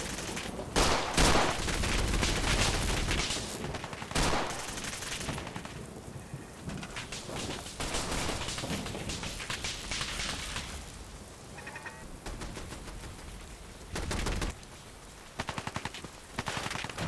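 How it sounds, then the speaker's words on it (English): Rapid rifle gunfire from the video game Fallout 4, played with a zombie apocalypse mod: dense volleys of loud shots, some in quick bursts, with brief lulls between them. "Firing like a professional rifleman."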